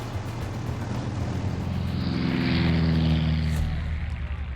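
A Douglas C-47 Dakota's piston propeller engines drone heavily, a low throbbing hum that swells and pitches up as the plane passes close, then eases off.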